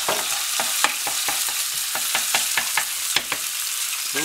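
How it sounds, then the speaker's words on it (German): Chopped onion and garlic sautéing in oil in a pan, a close, steady sizzle punctuated by a rapid run of spatula scrapes and taps. "Wird auch jetzt ein bisschen angebraten mit Öl."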